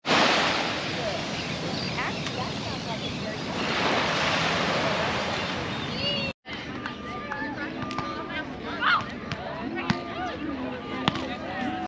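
Gentle surf washing onto the swim beach at Ventura Harbor, a broad steady wash of waves with wind noise for the first half, then quieter water with scattered bird calls and distant sounds.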